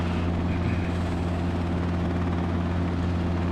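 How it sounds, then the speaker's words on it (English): A Robinson R22 helicopter drones in flight with a steady, even rotor and engine hum, constant and close throughout, with no voices. "Type helicopter R22 paralleling the I-10 freeway about 5 to the northeast with clearance to land."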